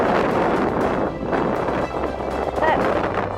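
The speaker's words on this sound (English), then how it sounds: "It's too windy." Strong wind on the east coast of Scotland roars and buffets the microphone continuously, loud and close, with a voice faintly heard beneath the gusts.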